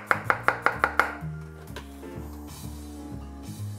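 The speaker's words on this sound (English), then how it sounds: "Just gonna give it a quick chop." Two peeled garlic cloves are chopped with a knife for a tilapia sauté with spring vegetables: a quick run of six crisp, evenly spaced knife strikes on a board, then a few softer scattered taps, close up and without talk.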